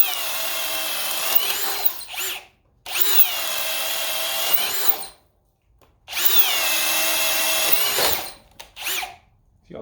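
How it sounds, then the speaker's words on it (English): Compact 18V brushless cordless drill drivers, a Ryobi among them, whine loudly at high speed in three long bursts, each winding down before the next start, with no talk. "I'll start the Ryobi first just to give it a head start"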